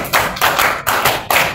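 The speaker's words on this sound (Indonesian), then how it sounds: "2 kali tepuk tangan 5." Children in a classroom clap their hands together in loud, sharp group claps, four bursts spaced about half a second apart, close and without talk.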